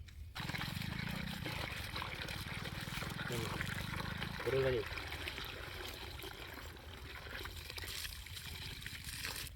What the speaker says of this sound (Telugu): దీనిలో మనం ఫస్ట్ వాటర్ వేసుకుందాం